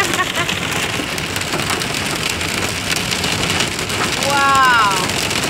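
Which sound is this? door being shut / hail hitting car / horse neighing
hail hitting car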